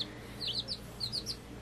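High, thin chirps from baby chicks come in short scattered bursts over a low steady hum, fairly quiet and close.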